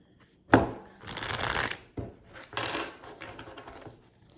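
A tarot deck is shuffled by hand, with a sharp riffle snap followed by repeated soft, papery bursts of cards sliding and fanning, close to the microphone with no talking.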